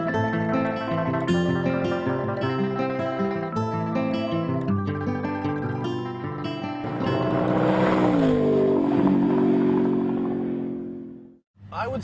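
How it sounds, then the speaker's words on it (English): A Volkswagen GTI driven hard on a racetrack, its engine note rising through the gears in repeated pulls, then swelling into a broad roar with tyre noise before a brief cut near the end. "we are going to whip the snot out of Dan's brand new car on this racetrack"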